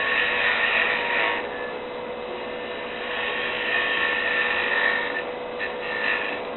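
Wood lathe turning a sphericon while a bedan tool cuts the spinning wood, a steady whirring hum with a raspy scraping texture that swells and eases in waves as the tool engages, close and fairly loud.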